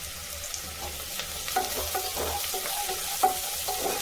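Chopped onions sautéing in a pan for coconut milk rice, a steady soft sizzle with a few light scrapes of stirring near the end, close and fairly quiet, no voices.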